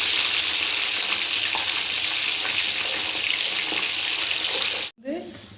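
Chickpeas fry in hot oil with a dense, loud hiss of bubbling that holds steady for about five seconds, then cuts off abruptly before a brief voice is heard.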